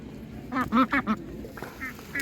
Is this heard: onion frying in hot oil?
no